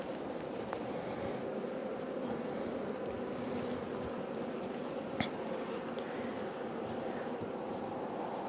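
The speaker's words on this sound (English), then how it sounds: "Lots of young bees." Honeybees hum in a dense, steady drone around an opened hive during an early-season inspection, close and continuous, with a few faint clicks of handling and no talk.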